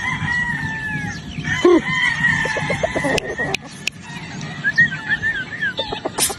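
Rooster at a game farm crowing loudly and close, mixed with clucking from surrounding fowl, with scattered sharp knocks and brief bird calls throughout.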